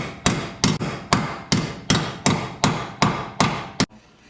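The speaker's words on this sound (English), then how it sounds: "So you want to get a hammer, and then you're going to want to back this back up." A hammer pounds metal back into place on a Suzuki Samurai frame. About ten sharp, ringing blows land in a fairly even rhythm, loud and close, with no talking.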